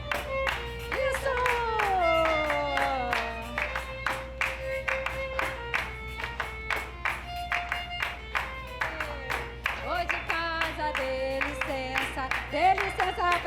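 An audience claps along in rhythm to a lively Brazilian song with sung vocals, the claps forming a regular beat under the music throughout.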